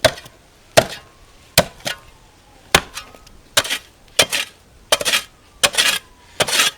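A metal shovel strikes frozen, icy soil about eight inches down, landing a dozen or so sharp, hard clanking hits in an irregular rhythm, close and loud with no talking.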